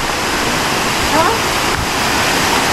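Waterfall on the Tapuakan River in Pugo, La Union, a loud, continuous broadband roar of falling water heard up close, with a voice talking faintly over it.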